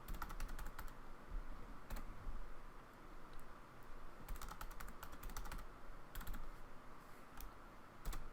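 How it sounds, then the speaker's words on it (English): Bursts of computer keyboard typing as an address is entered, with a low background hum, fairly close and fairly quiet. The keystrokes come in quick clusters separated by pauses and run throughout the passage. "We're gonna type that in."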